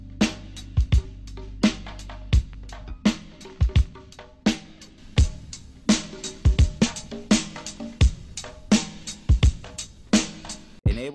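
A hip-hop drum beat saturated with Fruity Limiter and Fruity Squeeze plays loud and punchy, with sharp kicks and snares hitting in a steady repeating groove over a gritty, compressed low end.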